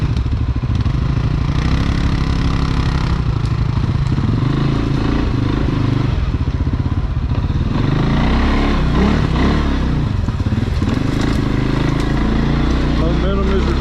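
A CFORCE 600 ATV engine runs steadily on a trail ride, a loud, continuous low rumble with shifting revs throughout, close by and unbroken.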